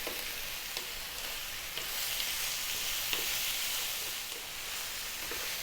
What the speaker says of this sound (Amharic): ይሄው እየተጠበሰ ነው። ሽንኩርቱ ሁሉም ገና እየተጠበሰ ይቀረዋል።